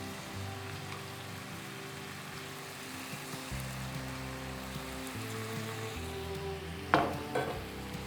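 Spiced honey glaze sizzling in a pan, a steady frying hiss with a faint low hum in the background and a brief clatter near the end.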